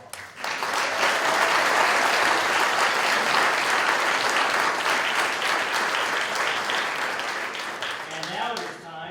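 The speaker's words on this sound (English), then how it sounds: "I think we need to give our representatives another round of applause." An audience bursts into sustained applause for representatives at an MLK Day celebration, steady dense clapping that swells quickly and then fades slightly toward the end, with no speech over it.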